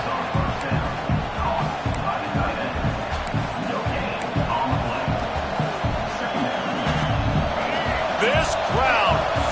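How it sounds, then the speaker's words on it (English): A packed football stadium crowd at an Oregon vs South Carolina game roars at full throat, a dense, sustained wall of cheering that holds steady and swells slightly toward the end, with a commentator's voice layered over it. "This crowd, full throat, spreading the eardrums and letting them know it's going to be a long day"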